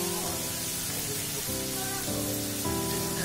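Prawns frying in a pan over medium heat for chingri posto, a steady broad sizzle running throughout, with a low tonal hum of background music underneath.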